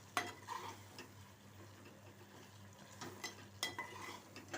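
Curry seasoned with chili powder simmers in a pan, with soft sizzling, a steady low hum, and occasional scrapes and clinks of a spoon stirring against the metal.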